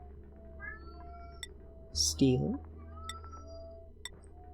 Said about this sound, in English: You can probably hear my cat going off in the background.